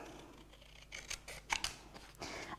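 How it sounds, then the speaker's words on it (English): Scissors cut a centre square out of a piece of card at close range, giving a few quiet, crisp snips in an otherwise hushed room with no voices. "just use our scissors to cut out this lovely centre square"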